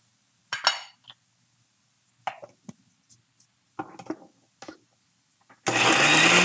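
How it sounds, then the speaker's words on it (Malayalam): A kitchen mixer grinder grinding coconut for Madhura Pachadi roars into loud, steady whirring near the end, after a few scattered clinks of utensils against dishes. "അപ്പോൾ ഇത് ഒന്ന് അരച്ചെടുക്കട്ടെ"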